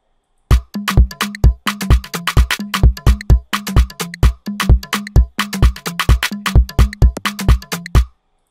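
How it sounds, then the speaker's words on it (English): Looped conga pattern in an Afrobeat-style beat, sharp slapped and open tones striking in a steady syncopated groove, loud and close with no voices over it. "This is how the conga loop sounds like."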